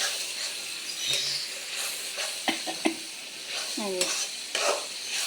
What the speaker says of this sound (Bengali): ভালো করে কষিয়ে নিচ্ছি কষাইতে কষাইতে এখন আমার মশলাটা সুন্দর রং হচ্ছে